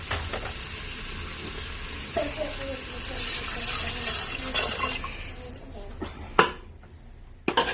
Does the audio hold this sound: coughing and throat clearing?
no